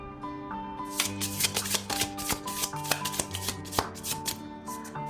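Tarot cards being shuffled by hand, a steady run of crisp riffling and slapping strokes over soft background music, close and continuous.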